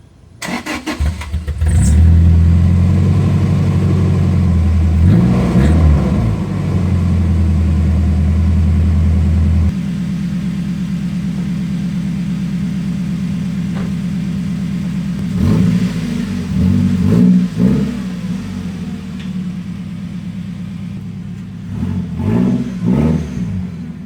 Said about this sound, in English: I'll show you some more revs of the old nasty Tacoma